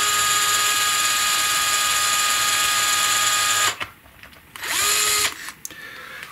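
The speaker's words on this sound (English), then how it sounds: "this is a 16th inch drill bit, and I'm just going to go," A power drill with a 1/16 inch bit runs in reverse against an electric guitar body, a steady high whine for several seconds that cuts off, then a short second burst and a fading spin-down.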